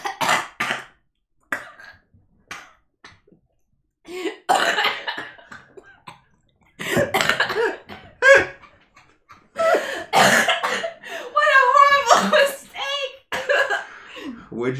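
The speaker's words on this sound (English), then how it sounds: "It was like a cough and a drinking tea wrong at the same time" Someone coughing and sputtering after choking on tea, in several bursts mixed with throat clearing and laughter, while people talk close by during a live podcast recording.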